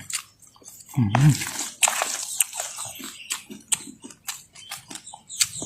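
Crispy pork cracklings in instant noodles stir-fried with chili curry paste crunch loudly in a close bite, followed by a series of smaller crackly chewing sounds with some vocal murmurs.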